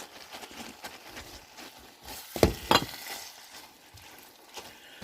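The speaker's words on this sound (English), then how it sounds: "So I'm just going to put these in here and stir them up." Udon noodles with sauce, meat, broccoli and onions are stirred in a pan, giving a soft sizzle with a few sharp close scrapes and clacks in the middle, no talking.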